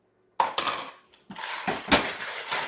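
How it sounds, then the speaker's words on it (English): Broccoli florets tipped from a bag into a bowl in a home kitchen, a run of crisp rustling, clattering knocks against the bowl in several quick bursts with a short pause in the middle. "let me go ahead and get out the bag, put it in the bowl."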